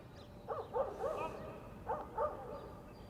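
A dog outdoors gives a few yipping, whimpering barks in two short clusters, moderately distant over steady wind-like background noise.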